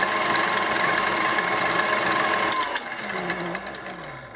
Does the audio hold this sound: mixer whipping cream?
yes